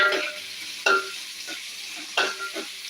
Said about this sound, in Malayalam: ഉള്ളിയും മുളകും എല്ലാം ഇട്ട് കൊടുത്തു നന്നായിട്ടൊന്ന് ഇളക്കി കൊടുക്കുക